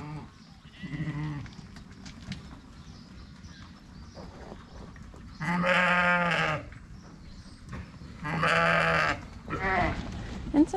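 Ewes bleating in farm yards during dipping, two loud drawn-out bleats close by over a background of softer distant bleats and livestock shuffling.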